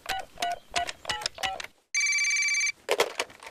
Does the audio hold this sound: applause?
no